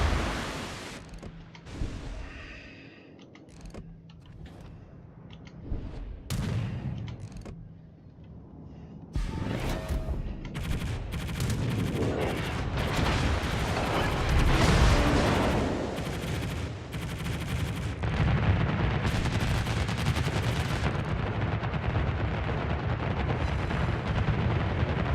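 Warship naval guns fire rounds in World of Warships, a series of booming blasts and rumbling explosions that build into dense, loud, sustained battle noise after a quieter, sparser opening.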